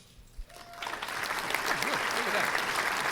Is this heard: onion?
no